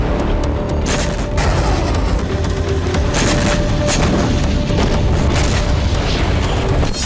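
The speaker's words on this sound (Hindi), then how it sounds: "यूक्रेन ने इन शहरों में नई मिसाइलों और ड्रोन से ताबड़तोड़ विस्फोट किए।" Missile and drone strikes on Russian cities set off repeated loud, deep explosions that boom one after another over a constant roar.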